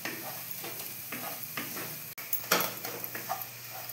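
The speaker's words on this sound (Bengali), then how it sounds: "ভালো করে মিক্স আপ করতে হবে যাতে বেসনের কাঁচা গন্ধটা বেরিয়ে যায়" A spoon stirs besan and a spice mix around a hot pan for dhaba-style paneer bhurji, giving steady scraping strokes over a soft sizzle with a sharp clatter partway through.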